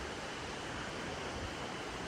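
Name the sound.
fast river flowing beneath a long bridge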